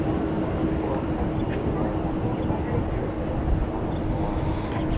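An American Airlines Airbus A321 arrives at DFW Airport at night: a steady, broad jet roar rumbles continuously at a distance while a person talks over it.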